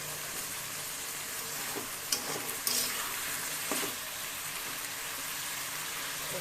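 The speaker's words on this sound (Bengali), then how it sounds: "ভালো করে ভেজে নেব তরকারিটা" Potatoes and pointed gourd fry with chilli powder and green chillies in a pan, giving a steady broadband sizzle with a few brief stirring clicks and scrapes, no talking.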